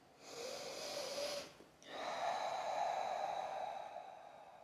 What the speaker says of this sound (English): you can close your eyes and just take a deep breath